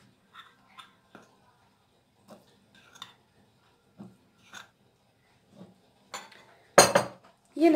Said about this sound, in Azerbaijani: Az-az töküb qarışdırırıq.